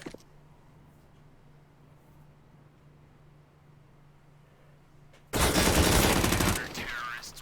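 Game gunfire in a first-person shooter erupts as a loud, dense burst near the end, after several seconds of quiet low hum, then carries on a little more faintly.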